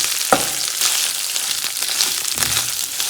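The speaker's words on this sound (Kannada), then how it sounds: "ರೆಡ್ ಚಿಲ್ಲಿನ ಹಾಕಿಬಿಟ್ಟು ಫ್ರೈ ಮಾಡ್ತಾ ಇದ್ದೀನಿ" Green and red chillies fry in a pan for a river crab masala, a steady close sizzle with a few sharp stirring clicks and scrapes, no voices.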